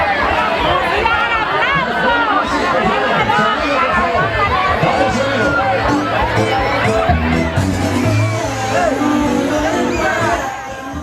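Dense carnival crowd in the Dominican Republic, a steady roar of chatter, shouts and cheering with busy babble throughout, close and loud with faint rhythmic drumming underneath.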